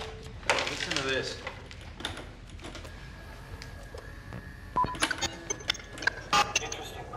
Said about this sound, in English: Door's fucked. Listen to this.